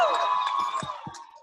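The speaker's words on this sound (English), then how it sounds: "I want everybody to cheer for Team Bling right now." An audience cheers and whoops for Team Bling at a training event, a loud crowd roar that fades slightly over a second and a half.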